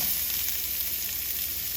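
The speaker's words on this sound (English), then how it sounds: "now what I'm gonna do is go ahead and cook my onion. The skillet is very hot" Onion hisses and crackles in oil in a very hot skillet, a continuous bright sizzle held at a steady level without any talking.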